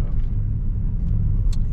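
A Nissan Micra 1.4 in third gear at about 1000 rpm rounding a roundabout, with a steady low engine drone and road rumble heard from inside the cabin.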